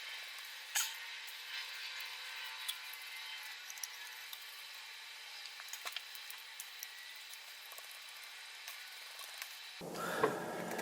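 A hand threading die cuts threads onto an airsoft barrel: quiet, close scraping and ticking with small clicks in an uneven rhythm, ending in a louder rustle.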